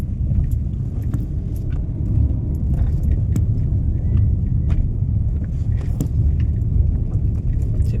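A car is being driven on the road, giving a steady, loud low rumble from inside the cabin with small rattles and clicks scattered over it.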